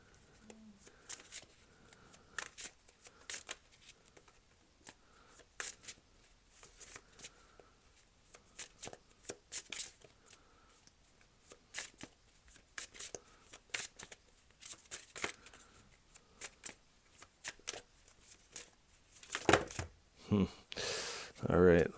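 Tarot cards are shuffled in bursts of soft riffling and slapping, quiet and close, with a louder flurry near the end, while a voice talks between the shuffles.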